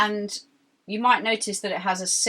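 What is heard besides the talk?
No everyday noises stand out.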